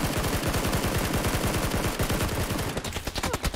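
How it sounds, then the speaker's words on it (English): Sustained automatic gunfire in PUBG, a dense rapid stream of loud nearby shots continuing throughout, the rhythm loosening slightly toward the end. "The other one is shooting at me right now"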